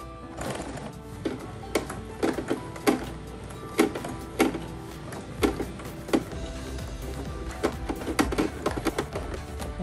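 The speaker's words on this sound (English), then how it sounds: "You have to be careful with not breaking needles when you're sewing the towels and thick fabric" A sewing machine stitches through thick towel fabric in uneven, rapid bursts of mechanical clatter, close and fairly quiet, with brief pauses between runs.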